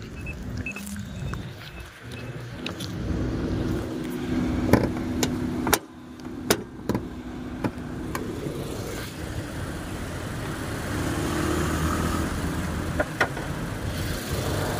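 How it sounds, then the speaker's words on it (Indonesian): A 2020 Mazda 3 hatchback engine runs at a steady idle, a low continuous hum with a few sharp clicks and beeps over it, heard close with no talking. "Dari segi mesinnya masih bagus, belum ada yang bocor, dan suara mesinnya masih top"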